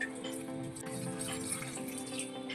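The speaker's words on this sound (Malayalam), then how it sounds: "ഇതിലേക്ക് കുറച്ച് വെള്ളം ഒഴിച്ചു കൊടുക്കാം." Water is poured into a pressure cooker holding spices for mutton varattiyathu, a faint, steady trickle heard alone.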